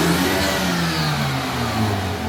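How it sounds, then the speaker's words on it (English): A Hyundai Elantra N engine revs up and holds a steady, loud drone, its pitch wavering slightly, close by with no talking. "Give it a few revs."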